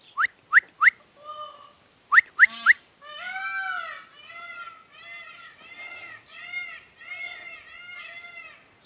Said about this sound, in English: we got all the peacocks making a noise now